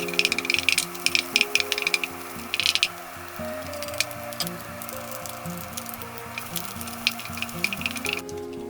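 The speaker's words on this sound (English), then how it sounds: "With the oil on a pan, I pan fry the onion and bacon." Onion and bacon pan frying in oil make a soft sizzling crackle with scattered pops and clatters of stirring, fairly quiet and close, under a steady background hum.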